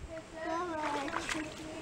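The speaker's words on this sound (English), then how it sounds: "Yeah, are you splashing?" A young child splashes in water outdoors while hunting for critters, with a few light splashes and sloshes mixed under a child's chatter and an adult's voice.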